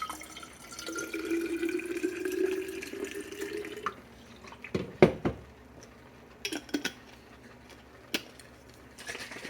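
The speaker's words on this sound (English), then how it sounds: "I'm going to fill this up with water halfway" Tap water runs into a jar for a few seconds, its pitch rising as it fills, then stops, followed by a few clinks and light knocks.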